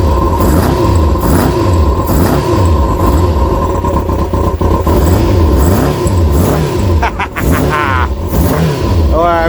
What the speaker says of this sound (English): Not revving it too hard because obviously it's only just started.